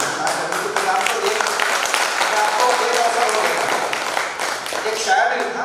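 Audience at an outdoor kavi sammelan poetry gathering in Ujjain breaks into dense, steady clapping, loud and continuous for several seconds with a few voices mixed in.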